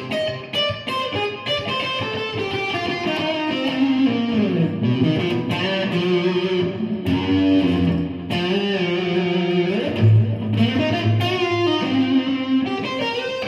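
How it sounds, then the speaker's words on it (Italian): An Eko VL-480 electric guitar played through both pickups with heavy distortion, sustained overdriven chords and riffs ringing out loudly and continuously with no talking. "adesso ci andiamo ad ascoltare tutti e due i pick up insieme con la distorsione"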